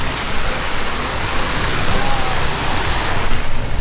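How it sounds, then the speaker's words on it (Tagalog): Rain falls in Manila as a dense, loud, unbroken hiss that swells slightly toward the end, with nothing else standing out. "It's been raining in Manila."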